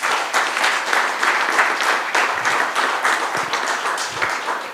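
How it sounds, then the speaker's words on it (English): Audience applause at an industry panel session, a moderate crowd clapping steadily with a slightly uneven, pulsing texture and no talk over it. "I want to give a round of applause with people who are here"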